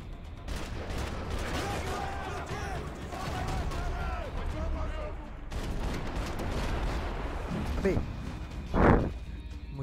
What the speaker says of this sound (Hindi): मुझे किधर से आ गया बम